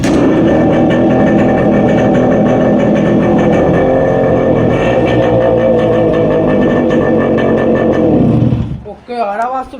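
A Yamaha RX 135 motorcycle engine runs without its air filter, a loud, continuous, close two-stroke drone that cuts off near the end, with possible voices under it.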